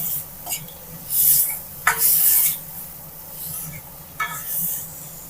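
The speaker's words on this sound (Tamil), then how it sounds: "தக்காளி வெங்காயம் நல்லா வதங்கிருச்சு." Onions and tomatoes sautéing in a pan for a Tamil-style kuzhambu, heard as intermittent scraping stirs and soft sizzling in short bursts, with no voices.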